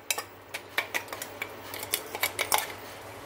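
A spoon clinks and scrapes against a metal pot while ground gravy paste is stirred into tomato puree for dhaba-style matar palak, in a quick irregular run of light taps, close and fairly soft.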